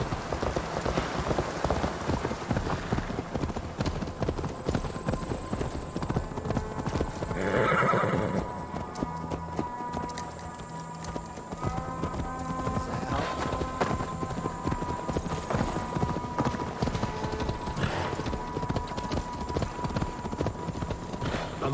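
Horse hooves clip-clop steadily in a video game, with a horse's whinny and a constant hiss of rain throughout.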